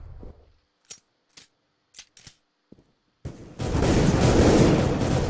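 Counter-Strike gunfire during an ESEA playoff match as a team pushes the B bombsite: a few sharp, separate shots spaced apart, then a loud sustained burst of overlapping fire.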